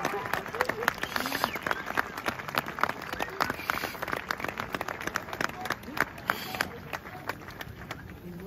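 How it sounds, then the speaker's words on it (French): A crowd on the quayside at the port of Brest applauds arriving sailors, dense, continuous clapping throughout with some voices mixed in. "Je vous suggère de les applaudir tous les deux."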